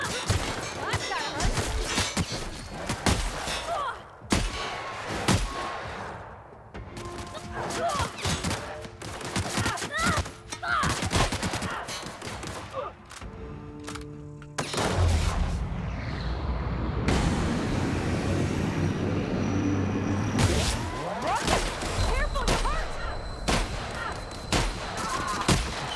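Repeated booming shotgun blasts in the sci-fi game The Outer Worlds, loud and irregular across a running battle, mixed with crashes, impacts and character voices.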